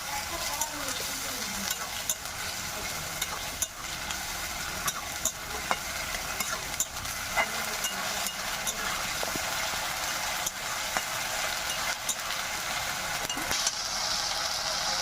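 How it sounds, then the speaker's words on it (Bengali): A ground paste of ginger, garlic, cumin, pepper and dried chilli fries with onions for a country chicken curry, sizzling in a loud, constant hiss with repeated scraping stirs close up. "সেই বাটা মশলাটা দিয়ে দেবো। আমি ভালো করে কষে নেব"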